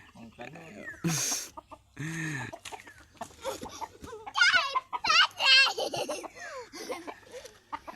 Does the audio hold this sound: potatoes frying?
no